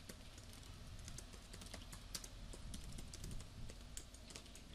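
Steady keyboard typing on a computer keyboard while entering CSS code, with quick irregular key clicks at a low, even level throughout and no voices.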